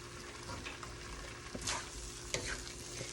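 Sliced tofu frying in a pan for chop suey, stirred as it cooks: a continuous close sizzle with a few scraping strokes and light knocks from the utensil, fairly quiet, with no voices.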